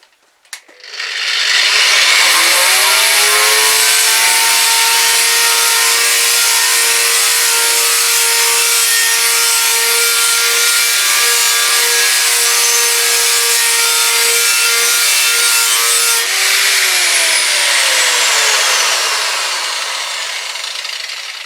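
An angle grinder fitted with a twisted wire brush spins up and scours rust off an old saw blade, a loud, steady abrasive whine with a constant harmonic hum that holds for most of the stretch before starting to wind down.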